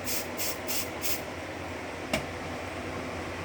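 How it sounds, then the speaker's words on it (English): Canned smoke sprayed from an aerosol can into a smoke detector on a Silent Knight 5820XL fire alarm system, heard as four short hissing bursts in a row, then a sharp click and a steady background hum. "I am going to grab my smoke. And we're going to spray out this detector."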